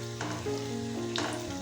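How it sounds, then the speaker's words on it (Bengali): Bread soybean rolls sizzle steadily in hot oil in a kadai, with a close, continuous crackling fry and a couple of brief louder spatters. "এবার একে একে প্রত্যেকটা রোল ভেজে নেব।"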